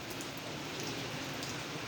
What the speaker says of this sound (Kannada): ಎನಿ ಟೈಮ್ ಮಳೆ ಬರ್ತಾನೆ ಇರುತ್ತೆ.